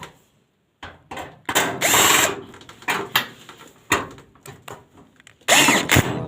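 Bolts are driven in with a power tool while assembling the ignition of a 16 kg Foggia dryer: short bursts of close whirring and ratcheting buzz separated by pauses, loud and uneven, with no voices.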